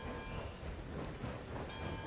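Steam locomotive in the RailRoads Online video game, a steady rumbling rail noise filling the whole moment without talk; the whistle itself is not clearly separable from the continuous train sound.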